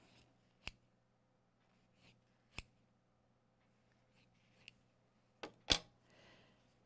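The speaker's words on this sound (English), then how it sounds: "And then I come in and take my scissors" Scissors snip through folded fabric in a quiet room, with a few sharp, isolated cuts spaced irregularly and a final louder snip and rustle near the end. The sound is close and faint, with no voices.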